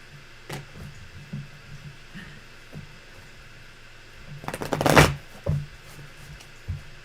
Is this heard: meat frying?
no